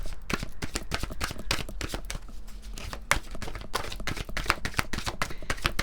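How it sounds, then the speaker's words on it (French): Oracle cards from a mirror oracle deck are shuffled and drawn in a fast, dense run of crisp riffling clicks and slaps, close and continuous. "On va prendre quelques cartes de l'oracle des miroirs."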